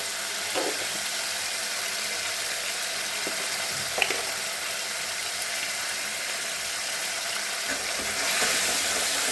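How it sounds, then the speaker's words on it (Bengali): Cumin, ginger and green chili paste frying in a pan for a pointed-gourd malai curry, a continuous close sizzle with a few faint clicks of a stirring utensil, swelling slightly louder toward the end. "আর এখানে অল্প জিরে, আদা আর লঙ্কা বাটা দিয়েছি। এটাকে ভালো করে একটু ভেজে নেব।"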